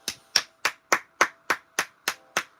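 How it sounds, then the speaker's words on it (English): Nine sharp, evenly spaced hand claps ring out close and clear at a steady rhythm, each a crisp isolated smack, during a live spiritual stream. "I'm applauding you and what you've done this evening"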